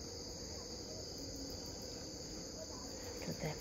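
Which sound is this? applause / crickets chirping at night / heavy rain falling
crickets chirping at night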